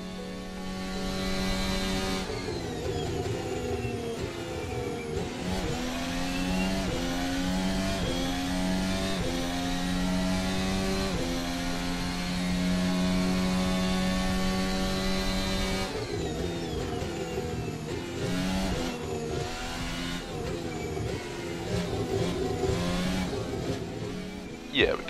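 AI race cars in a racing game pulling into the pits, engines droning and whining with shifting revs as they slow through the pit lane, a long steady mechanical hum with speech partly over it.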